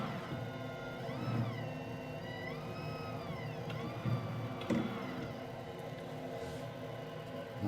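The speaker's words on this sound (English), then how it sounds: "I hear the stone dragging on this, so that's too tight." A sharpening stone grinds against a sawmill blade, a steady motor-driven whine with sliding tonal overtones held over a continuous rumble, with brief scraping bursts where the stone drags on the blade.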